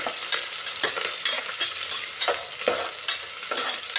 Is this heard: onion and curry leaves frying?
yes